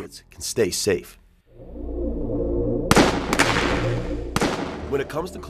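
An explosive is detonated: a deep rumbling blast rolls out after brief voices, followed by sharp cracking bursts and lingering roaring noise at close range.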